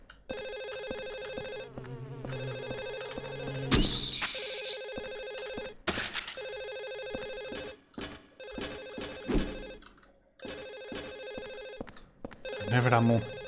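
A telephone rings repeatedly in Silent Hill 4, its bright electronic bell sounding in steady bursts with short gaps, fairly loud and broken up by brief louder noises and a voice.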